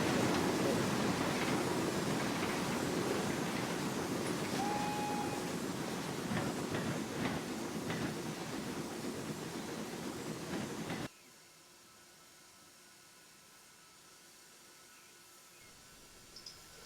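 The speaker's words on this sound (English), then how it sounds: "They waited for another engine to take the train." A train at a railway station rumbles with a steady broadband hiss and low mechanical noise, loud and close, before cutting off abruptly to a quiet background near the end.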